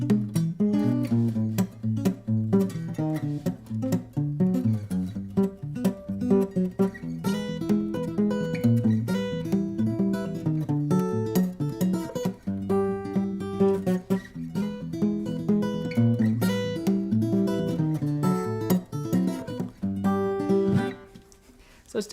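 A ragtime piece is fingerpicked on guitar without a thumb pick, giving a continuous run of alternating bass and quick melody notes in a lively ragtime rhythm that sounds warmer and less punchy, close and sustained throughout.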